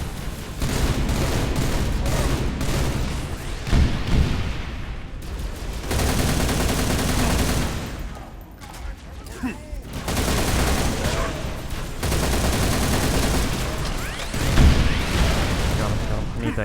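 Gunfire and blasts fill a Halo Reach battle in loud, sustained barrages broken by short lulls, with a voice talking under the shooting.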